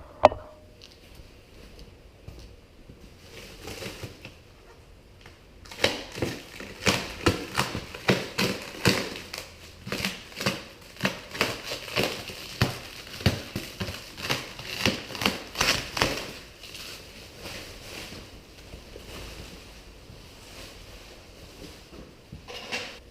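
Plastic wrapping being torn and pulled off a new set of rubber tracks for a Bobcat T190 skid steer, with dense rustling and crinkling bursts that run steadily for about ten seconds before tapering to quieter handling sounds.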